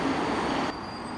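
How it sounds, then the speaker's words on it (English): A Tokyo Metro train approaches a busy viewing spot, its broad rumble and rail hiss fairly loud and steady before dropping off abruptly near the end. "The train is approaching towards this way."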